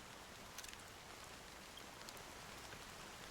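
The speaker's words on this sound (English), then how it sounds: "how long has this rain been going on for?" Steady rain falling in the video game Honkai Star Rail, a soft continuous hiss of drops at even level with a few faint brighter patters, no voices.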